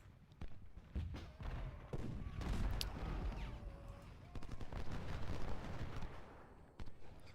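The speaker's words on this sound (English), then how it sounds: "So I'm actually going to target my artillery onto their units behind the fortifications." Civil War artillery and rifle fire in Ultimate General Civil War rumble in irregular overlapping bursts, with deep booms and crackling volleys that sound moderately distant and keep going throughout.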